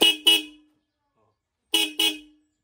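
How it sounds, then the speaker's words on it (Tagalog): Two pairs of short, sharp horn beeps from a newly fitted dual horn on a Yamaha Sight motorcycle sound close by, separated by a brief silence. "okay na yung busina natin, tatry na natin"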